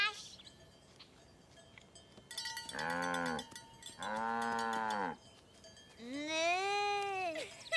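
Cartoon cows on a farm let out long, drawn-out moos, three loud calls in a row with short pauses between, over a faint background bed.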